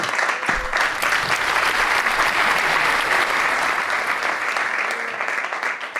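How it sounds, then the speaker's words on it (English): An audience at a talk on the rising power of the Gulf gives the presenter loud, sustained applause that fills the room evenly and eases off slightly at the close. "let's give an applause"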